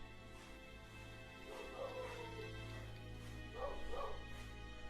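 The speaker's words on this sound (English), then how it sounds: "Wish those dogs would shut up." Several dogs bark and yip in short bursts at a distance, faint over a steady low hum, with a louder cluster of barks near the end.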